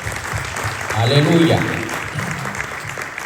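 A church congregation claps together as an offering of applause to the Lord, a short burst swelling and fading while a voice calls out over it.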